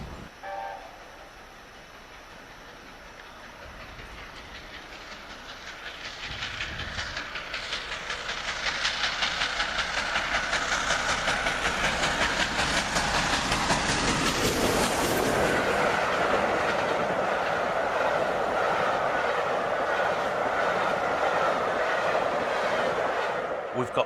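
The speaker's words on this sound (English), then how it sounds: "We've also got a Locoman Sound's latest Black 5 sound chip in a Hornby Black 5 over there as well." A Hornby Black 5 model locomotive fitted with a Locoman Sounds sound chip runs on a layout, its chuffing and hissing swelling from quiet to a steady, fairly loud rhythmic beat with rail clatter.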